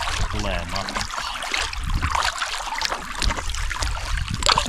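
Canoe paddling on the Kemijoki river, a small calm flowing river, with water splashing and trickling around the hull in irregular strokes, fairly close, with some voice-like sound mixed in.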